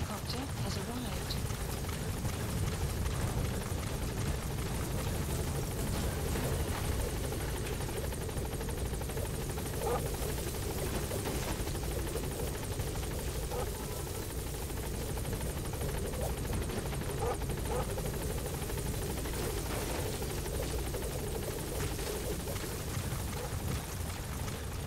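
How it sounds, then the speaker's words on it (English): A support helicopter in the video game Metal Gear Solid V hovers at a landing zone, its rotor drone a steady, close, continuous whir with radio-style voices talking over it. "Have arrived at LZ. We'll stand by. Support helicopter has arrived."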